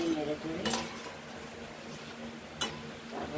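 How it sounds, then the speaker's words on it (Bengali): Already-fried prawns are stirred through a cooked mixture in a pan with a spoon, making a couple of sharp metallic scrapes and clinks over a soft, low sizzle. "চিংড়ি মাছগুলো দিয়ে দিলাম, ভাজা ছিল। চিংড়ি মাছটা দিয়ে নেড়ে চেড়ে"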